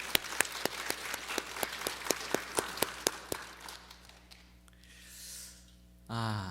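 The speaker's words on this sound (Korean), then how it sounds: "우리 박수로 한번 격려하겠습니다." A church congregation claps in a quick, even rhythm of sharp individual claps that thins out after a few seconds, followed by quiet room tone and a short hum or voice at the end.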